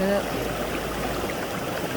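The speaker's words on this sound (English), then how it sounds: "I just like kind of bathed in this creek water" Creek water flows in a steady, even rush, a continuous broadband wash that holds at a constant level throughout, with no voices over it.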